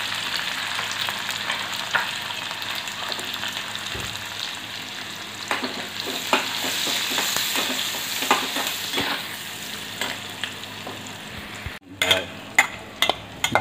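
Onion, curry leaves and turmeric sizzling in hot oil while being stirred for a dry tuar dal dish, a steady close crackling fry with scattered spoon scrapes and a few sharper clinks near the end.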